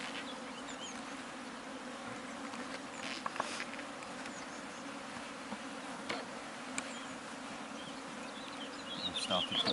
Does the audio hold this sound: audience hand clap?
no